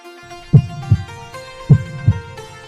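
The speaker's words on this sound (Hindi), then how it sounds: "धक धक धड़कते दिल की आवाज इतनी तेज थी कि कोई भी सुन सकता है" A deep, thudding heartbeat, two paired lub-dub beats in a steady rhythm, loud and close over a faint tonal hum.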